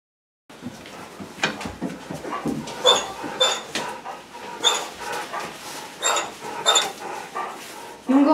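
A puppy whimpers and pants with short vocal bursts and sniffs, close by, the sounds coming in irregular clusters.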